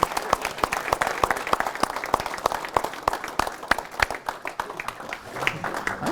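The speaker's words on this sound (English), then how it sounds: "Okay, yeah, we're just gonna clap." A small group claps at a Minnesota Vikings 2024 NFL Draft gathering, with distinct sharp hand claps in an uneven rhythm that keeps going close by and gets a little sparser in the middle.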